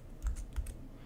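A short run of soft, close taps on a computer keyboard while a terminal command is typed, a few quick keystrokes over a faint hum.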